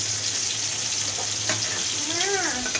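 Eggplant (brinjal) fries in a pan with a constant hiss and sizzle over a low hum, and a short voice briefly rises near the end.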